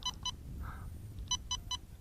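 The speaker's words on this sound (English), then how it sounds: "I pressed it twice to get the 3 beeps" Handheld quadcopter drone controller beeping as it switches to high rate, with short sharp electronic bleeps in two pairs plus more spaced tones, clear and close over a faint outdoor breeze.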